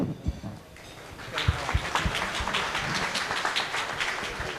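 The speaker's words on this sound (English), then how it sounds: "give them a heartfelt round of applause as they take the stage" Audience applause at a charity gala dinner for an orthopaedic research centre, a steady wash of clapping from a seated crowd that swells after a quiet start and holds at moderate volume.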